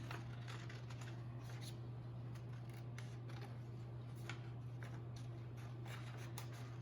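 Scissors snip through paper as an image is cut out for a string art craft, with quiet, repeated short clicks in an irregular rhythm over a steady low electrical hum, close and faint, no talking.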